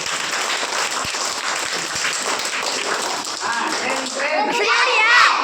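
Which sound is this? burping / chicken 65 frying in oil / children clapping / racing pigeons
children clapping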